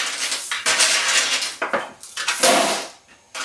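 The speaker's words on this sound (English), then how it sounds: "There's too many balls in. Let me scoop them out." Metal balls are scooped out of a Heiwa pachinko machine, producing close, loud clattering and jangling bursts of many small steel balls rattling together, in several uneven surges with short pauses between.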